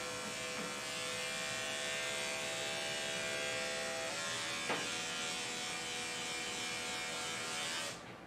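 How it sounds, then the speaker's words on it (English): Grooming clippers or shears cut through matted fur on a Coton dog, a steady close electric buzz running continuously with slight changes in pitch as the blade works into the mats. "I'm gonna cut through a couple mats, and I'm not shaving it out, I'm just cutting through like sideways"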